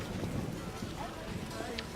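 Steady rain in the video game The Witcher hisses continuously at a moderate level, with a low rumble and scattered drips beneath it.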